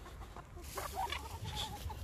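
Broody hens cluck in low, throaty bursts, several birds murmuring close by over a steady background hum.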